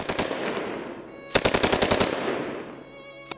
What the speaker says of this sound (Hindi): यकायक चारों तरफ से फायरिंग की आवाजें आने लगी।